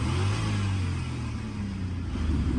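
An Audi V8 engine rumbles steadily with a deep, even drone, revving mildly without any sharp exhaust bark.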